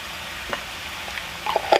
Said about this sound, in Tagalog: igigisa na lang muna natin siya